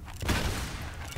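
Gunfire in the Lara Croft and the Guardian of Light video game, a dense burst of rapid shots and booms packed into just over a second, loud and close with no talk.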